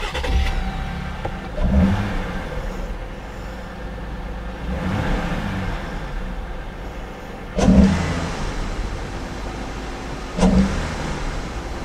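A Jeep fitted with an AFE cold air intake and factory exhaust cold-starts and idles, its engine a steady close rumble with several louder revving surges swelling and fading over the idle.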